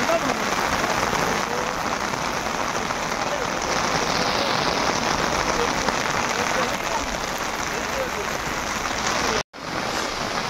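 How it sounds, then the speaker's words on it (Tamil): Steady rain pours outside a cave in the hills of Kodaikanal, a dense, continuous hiss of drops on rock and foliage that runs loud and unbroken throughout, with a brief cut near the end. "ஆனால் நல்லா மழை பெஞ்சுன்னு இருக்கு"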